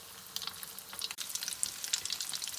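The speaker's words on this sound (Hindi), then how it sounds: "दरमियानी आंच पर हम लोग इनको फ्राई करेंगे दोनों साइडों से गोल्डन ब्राउन होने तक।" Cheesy chicken drumsticks shallow-frying in oil over medium heat, a soft, close crackle with bright popping spatters scattered over a few seconds, fairly quiet and without voices.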